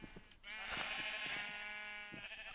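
Sheep bleat in Minecraft, a drawn-out wavering call that rises and holds for nearly two seconds, loud and close, with soft game noises before and after.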